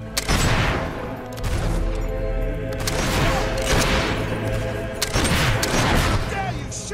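Bursts of gunfire and heavy booms from a battle in the video game Fable 3, dense and loud throughout, with volleys of shots layered over rumbling impacts.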